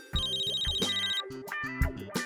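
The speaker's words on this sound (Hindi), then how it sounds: "फोन।" A telephone rings with a repeated electronic ringtone pattern, pulsing melodic tones in a steady rhythm, clear and close.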